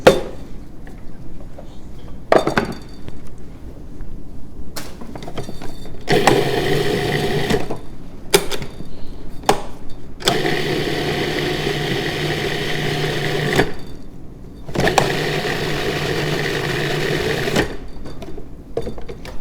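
A food processor pulses a lime juice and salt puree in repeated bursts of several seconds each, whirring loudly and separated by short pauses, with no talk.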